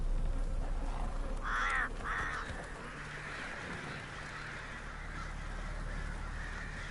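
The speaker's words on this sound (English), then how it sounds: "There's a crow." A crow in The Witcher 3 gives two harsh caws close together over a steady outdoor ambience, and no one speaks.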